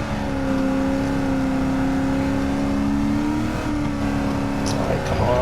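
A Chevrolet Camaro SS engine drones at high revs on a racing lap in a video game, a steady loud tone with a slight pitch shift near the end, a voice talking over it.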